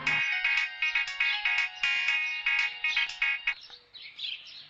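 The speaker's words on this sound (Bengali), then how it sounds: "আমরা সন্তুকে ফোন করে ডেকে নেবো।" A mobile phone ringtone plays loudly and close, a bright repeating electronic melody that pulses in short bursts for several seconds and then fades out.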